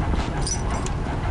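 Close by in a room, a dog whimpers and pants with soft breathy whines, moderately loud and without talk.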